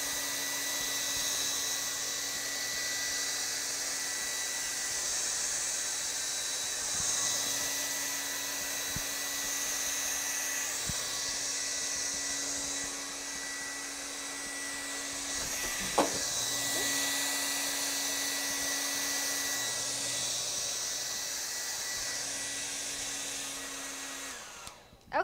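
A hair dryer blows across poured acrylic paint, running as a continuous steady whir throughout with a faint knock partway through.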